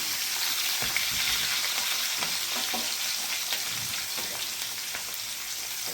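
Green chillies sautéing in hot oil with black sesame seeds, mustard seeds and cumin, a loud, continuous close sizzle scattered with crackling pops and stirring scrapes.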